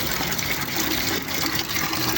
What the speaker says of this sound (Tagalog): Hinaluan ko ng tubig para dumami siya.